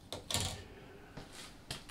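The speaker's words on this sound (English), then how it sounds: "Fantastic set of drawers." Engineering-style workshop drawers slide open and shut beneath a worktop, giving several soft rolling thuds and clunks spaced across the moment, fairly quiet, with no talk.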